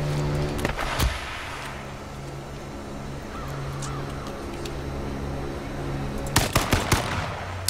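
Gunfire in the online survival shooter H1Z1, with a couple of sharp shots early on and a rapid cluster of several shots near the end, fairly loud over a steady game ambience, with no talk over it.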